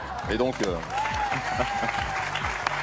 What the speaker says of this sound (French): J'applaudis, je m'en lasse pas.